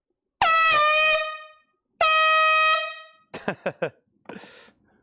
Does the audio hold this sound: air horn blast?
yes